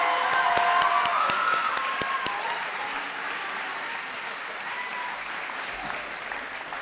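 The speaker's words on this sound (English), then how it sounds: "Can we just give them another round of applause?" Audience at a school eighth-grade graduation ceremony keeps up sustained applause with sharp individual claps prominent early on, gradually thinning and softening into a steady patter of hands.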